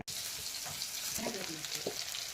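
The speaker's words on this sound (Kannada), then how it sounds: "ಈಗ ಎಣ್ಣೆ ಕಾಯ್ಲಕ್ಕೆ ಇಡ್ತೀನಿ" Oil heats in a pan for a village-style North Karnataka fish fry, giving a steady low sizzle with a few soft clinks and faint movement, close but quiet, with no talk.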